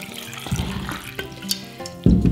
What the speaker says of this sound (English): So I am just going to put a little bit of that in here, kind of as a starter for my pickle brine.